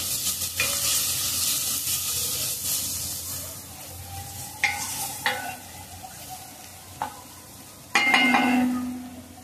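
An onion-coconut paste fries in a pan for a cashew masala curry, giving a steady hiss and sizzle, with the spoon now and then scraping and clanking against the pan as it is stirred.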